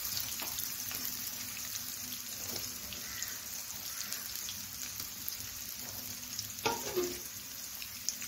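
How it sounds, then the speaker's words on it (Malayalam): Bitter gourd pieces frying in hot coconut oil, a soft continuous sizzle and crackle throughout, with a few light clinks and one sharper pop near the end, no talking. "എണ്ണ നല്ലതുപോലെ തിളച്ചിട്ടുണ്ട്. ഇനി ഞാൻ പാവയ്ക്ക് ഇട്ട് കൊടുക്കുകയാണ്."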